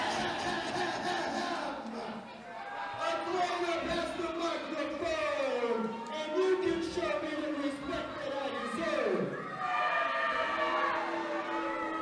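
A wrestling crowd jeers and chants at Bruce Grey during a House Party 2 tag-team match, a loud, sustained mass of voices with rising and falling tones under a commentator's talk.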